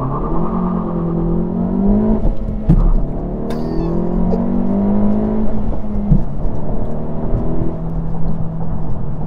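A 2021 eleventh-generation Honda Civic drives along with a steady close engine and road rumble that swells slightly, one brief knock partway through, and no talking.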